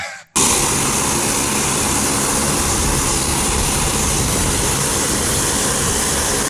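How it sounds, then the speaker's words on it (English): Airplane engine drones loudly and steadily through the whole stretch as the plane climbs with skydivers aboard, a dense continuous roar with no pauses, after a brief quiet moment at the very start. "you're going up in the plane"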